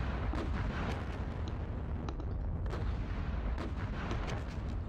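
Dense, continuous gunfire and artillery-like booms from the John Tiller Battles of Normandy wargame, a steady loud barrage of overlapping shots and blasts with no talking.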